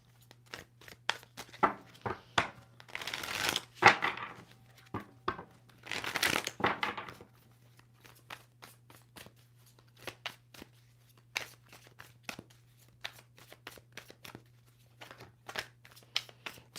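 A tarot deck is shuffled by hand, with dry card riffles and slaps in short bursts, two longer rustling runs early on, then scattered crisp taps, close and fairly quiet over a faint steady hum.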